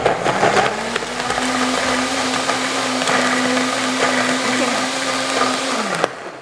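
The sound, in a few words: blender blending ingredients with dates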